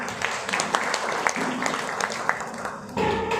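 Audience applause fills the room in a dense, steady wash of clapping, fairly loud and continuous throughout, with a brief shift in tone near the end.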